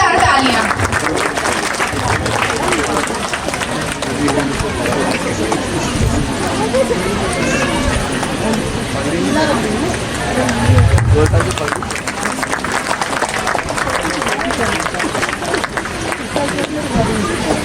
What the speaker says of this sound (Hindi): एक बार अर्चना मैम और सुभाष सर के लिए जोरदार तालियां।